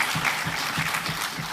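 Audience applause for a teen honoree at the 25 Most Remarkable Teens awards ceremony in St. Kitts and Nevis, steady dense clapping filling the hall throughout.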